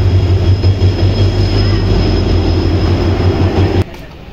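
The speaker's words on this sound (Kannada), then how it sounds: "ನೋಡಿ, ಟ್ರೈನ್ ಕೂಡ ಬಂತು." A train rolls into a station, a loud, steady rumble of wheels and rail noise with a sustained hum, close by, continuing for nearly four seconds before cutting off abruptly.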